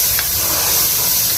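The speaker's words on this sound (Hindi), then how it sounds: "अब इसके अंदर 3 टमाटरों की मैंने प्यूरी बना के रखी हुई थी, ये शामिल कर देंगे।" Tomato puree goes into beef frying for beef tikka karahi, setting off a loud, dense, continuous hiss of steam and sizzle that fills the moment with no talking.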